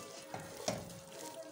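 Spices with turmeric fry in a pan for kadhi, a soft, steady sizzle with a light stirring scrape partway through.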